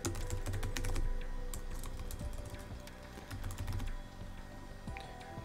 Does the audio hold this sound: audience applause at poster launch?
no